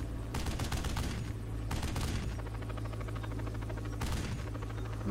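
Video game gunfire with bullet impacts crackles in three loud bursts over a constant low mechanical drone, with no talking.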